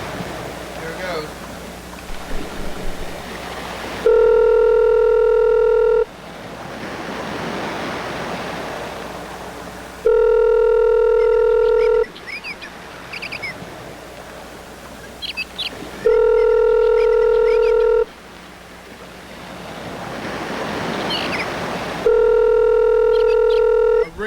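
A phone places an outgoing call, with loud steady ringback tones repeating four times in long evenly spaced beeps, separated by hissy noisy stretches, close and prominent.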